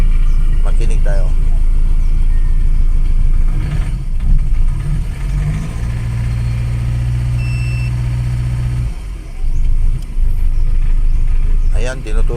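A 2019 Ford Ranger engine idles roughly with malfunctioning injectors, low power and a check-engine fault, in a repair shop. A loud, steady low hum shifts pitch midway, and voices murmur nearby.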